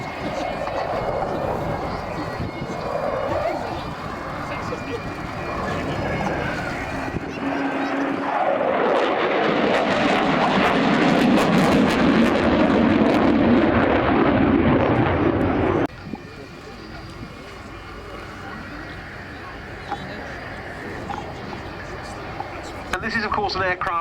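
A military jet flies a display at the RAF Cosford airshow, its loud engine roar swelling to a sustained peak as it passes close, then cutting back to quieter background with wind noise and an announcer talking.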